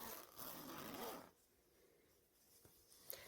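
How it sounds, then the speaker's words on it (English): A skirt zipper is pulled open in one quick rasping stroke close by, followed by quiet handling noise and a small click. "Unzip your zipper before you sew it."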